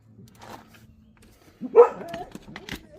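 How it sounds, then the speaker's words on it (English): A dog barks once, fairly loud but somewhat distant, with a few softer yips and muffled background noise around it. "you guys can hear my dogs in the background"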